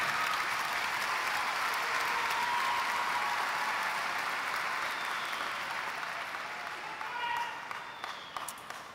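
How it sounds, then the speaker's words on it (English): Steady, dense applause from a large crowd at a university commencement ceremony, sustained throughout and tapering slightly toward the end. "Let's give it an applause for our moms out there."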